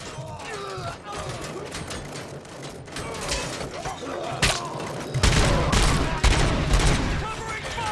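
A dense, rapid fusillade of gunshots in Robocop Rogue City keeps up throughout and grows heavier and louder in the second half, with heavy thumps mixed in.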